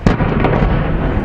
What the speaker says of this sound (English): divers are actually blowing up parts of the Costa Concordia in an attempt to reach further